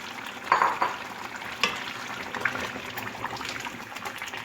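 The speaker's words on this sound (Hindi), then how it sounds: "और अब अच्छी तरह से भून लेना है जब तक अच्छी से खुशबू ना आने लगे मसाले की।" Masala cooking with yogurt and potatoes in a pan for chicken aloo curry, a soft wet sizzle broken by a few louder scraping stirs near the start, steady and close with no talking.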